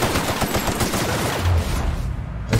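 Rapid automatic gunfire rattles continuously and loudly during a final boss fight in the video game The Outer Worlds, dense overlapping shots with no pauses.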